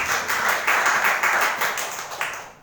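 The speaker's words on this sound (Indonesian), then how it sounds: "Mari tepuk tangan untuk kemuliaan." Congregation clapping during an Indonesian Sunday church sermon, a short loud burst of hands lasting a couple of seconds before fading out.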